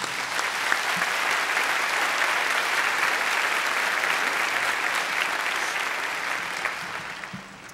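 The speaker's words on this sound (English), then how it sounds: "Please join me in giving these dedicated individuals a big round of applause" Steady, full crowd applause at a spring graduation ceremony welcomes new Board of Trustees members, a dense sustained clapping that tapers slightly near the end.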